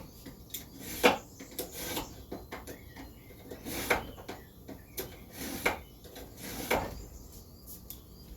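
A knife is sharpened before slicing beef, a series of soft, irregular scraping strokes, fairly faint and close, with no speech.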